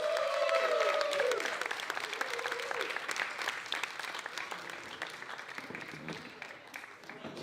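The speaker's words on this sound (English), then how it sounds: "Keep the applause going, it's a long way to the stage" Warm audience applause greeting football legend Roy Evans at a charity Q&A evening, loud at first and then easing into steadier clapping, with a host's voice briefly heard over it.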